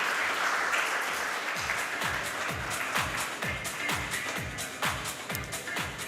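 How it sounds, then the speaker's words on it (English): An audience applauds at a leadership and knowledge event, a dense wash of clapping that carries on steadily throughout with no voices over it. "Let's have a big round of applause for them."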